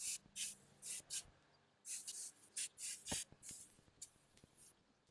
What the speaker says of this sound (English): So I'm just gonna spray the outside and then probably rinse it off.